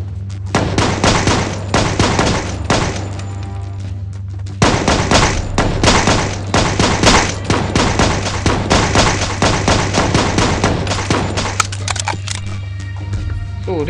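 Dense rapid gunfire from the video game Bad 2 Bad Extinction, loud and sustained bursts of many shots with a steady low drone underneath, briefly pausing before resuming just as heavily.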